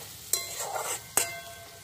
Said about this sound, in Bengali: এইরকম করে নেড়ে চেড়ে একটু ভাজা ভাজা মতো করে নেবো